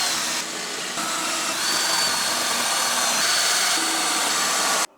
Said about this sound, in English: So we have our holes drilled